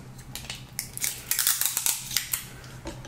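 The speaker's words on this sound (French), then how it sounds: "je vais maintenant bêtement scotcher mes câbles ici pour qu'ils restent bien sur le cadre" Clear adhesive tape being pulled and pressed onto cables on a Cheerson CX-117 drone frame, a close series of quick crackling rips and taps, alone without talk.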